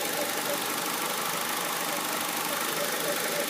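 A 2.4 liter engine from a 2002 Honda CR-V runs in a continuous, loud, even drone that holds steady throughout, close by, with no clear talking.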